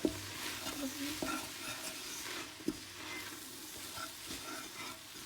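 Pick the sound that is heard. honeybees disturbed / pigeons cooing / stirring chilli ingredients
stirring chilli ingredients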